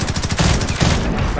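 Rapid gunfire in the Call of Duty Warzone video game, a continuous burst of shots fired from an opposite building, loud and dense throughout with no talk over it.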